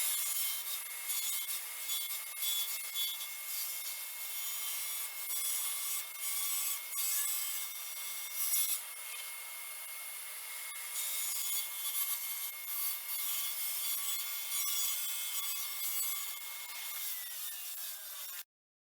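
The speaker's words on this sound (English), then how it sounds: "I'll probably have to cut those out completely with a jigsaw" A jigsaw cuts wood for a fireplace mantel surround, giving a steady, high buzzing rasp that runs without a break for nearly twenty seconds, close to the microphone.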